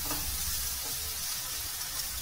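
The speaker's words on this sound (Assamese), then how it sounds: "এতিয়া মই বেঙেনাখিনি লগতে ভাজি ল'ম" Eggplant pieces frying in a pan during a red amaranth greens recipe, a steady broad sizzle with soft stirring scrapes running continuously throughout, close and even in loudness with no talking.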